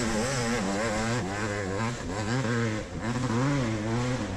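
A wound-out two-stroke dirt bike engine howls at a steady high pitch during a muddy Mid East Racing event, loud and continuous with slight wavering in revs.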